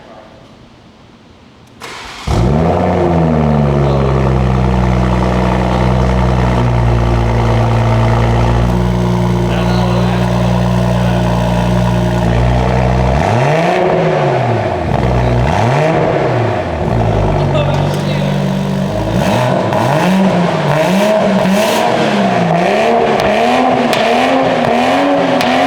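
A Toyota A90 Supra with a Ghost Tuning purple titanium valved exhaust starts with a sharp bark, idles loudly, then revs in repeated rising and falling sweeps, close and dominant, with brief talk nearby.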